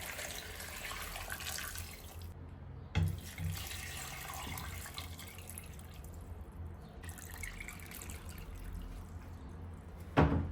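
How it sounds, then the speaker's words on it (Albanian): Water, about three litres, is poured from a tap or container into a pot of chopped black plums set on the stove, a steady rushing splash running alone with brief pauses. "Tash tenxherën e vendosi në zjarr dhe ja shtoj 3 litra me ujë."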